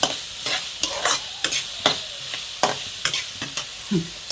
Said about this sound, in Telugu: కొద్దిగా ఒక 2 నిమిషాలు అలా అలా ఫ్రై చేసేసి కలుపుకుంటే రెడీ అయిపోయింది మన క్యాప్సికం రైస్